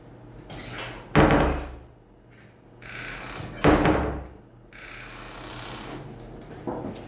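A door that looks worn bangs shut twice during breakfast, each a loud, close thud with a short rattle, separated by quieter room noise.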